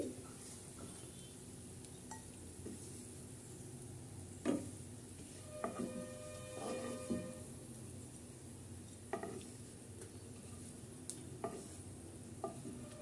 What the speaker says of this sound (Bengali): পেঁয়াজ বেরেস্তাটা আমি এখন উঠিয়ে নিচ্ছি।